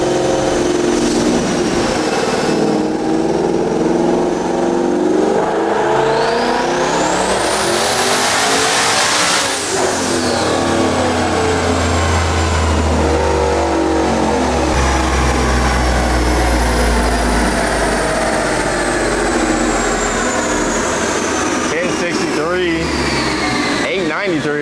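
A twin-turbo S650 Mustang engine holds a loud, sustained high-rpm roar under boost, with a rising whine sweeping up mid-pull and a deep low rumble that continues after it. People talk over the engine noise throughout.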